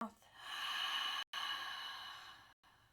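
Near and soft, a long, breathy exhale through an open mouth closes a yin yoga session, rushing steadily for over a second, broken by a brief gap, then continuing and tapering off.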